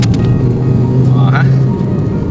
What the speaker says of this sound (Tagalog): Tinig nyo ba? Medyo maharurot yung ating uh, uh, sasakyan.